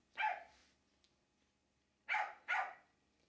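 A dog barks three times nearby, one single bark and then a quick double bark after a pause, each short and sharp against a quiet background.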